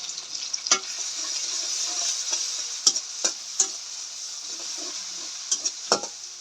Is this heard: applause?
no